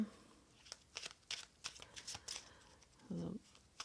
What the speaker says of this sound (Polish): Zobaczmy teraz, podokładamy karty.